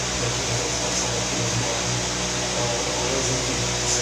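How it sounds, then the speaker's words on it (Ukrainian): An electric fan runs with a steady, loud whooshing hum that stays constant throughout, with no talking over it. "Оцей вентилятор."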